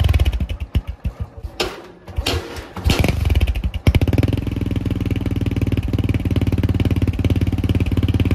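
A motorcycle engine with steel wool packed in its exhaust idles and revs loudly up close, the exhaust popping in rapid pulses before settling into a steady, throaty rumble.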